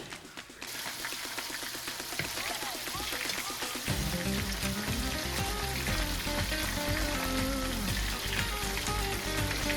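Calamari crackles and sizzles steadily in hot oil, a dense, loud frying hiss that grows fuller partway through and continues without pause, with no voices.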